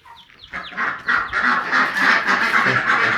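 Ducks quack noisily in a rapid, overlapping chorus, several birds calling loudly and close together with barely a pause.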